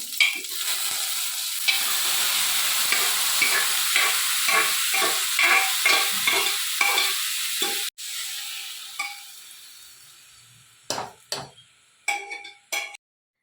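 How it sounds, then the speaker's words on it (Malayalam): Loud, steady sizzling of hot oil as mustard-seed tempering is poured into a green gram curry, broken by rapid crackling pops and stirring clatter, then the hiss fades into a few sharp spatters. "ലാസ്റ്റ് കടുക് വറുത്ത് കറിയിലേക്ക് ഒഴിക്കുക"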